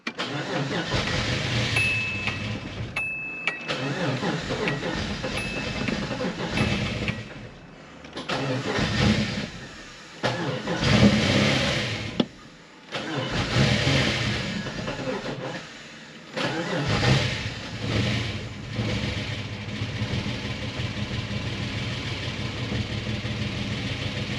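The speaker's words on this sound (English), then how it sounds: "All right, guys, I just cranked it and it run." An abandoned Subaru car, running on a borrowed El Camino battery, idles roughly after being cranked. The engine surges and dips with uneven revs and several brief drop-outs, close by, and there is no talk.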